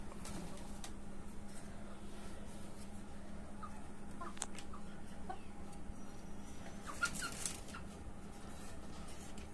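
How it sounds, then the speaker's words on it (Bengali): Domestic desi rooster and a few hens on a home rooftop poultry setup, soft clucking and occasional calls at moderate distance over steady background noise, with no talking. "এই হচ্ছে আমার মিস্টার হোয়াইট টাইগার মোরগ"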